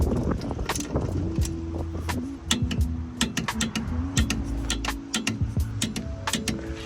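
A torque wrench ticks and clicks in scattered bursts while wheel lugs are tightened on a car, with a low engine or mechanical hum underneath, close and moderately loud.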